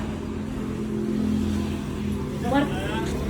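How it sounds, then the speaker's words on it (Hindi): A car pulls up to carry away household belongings during a family move, its engine a steady low rumble under loud nearby talk, with a brief swell of revving near the end. "तो भाई पीपन आ गया गाड़ी लेके"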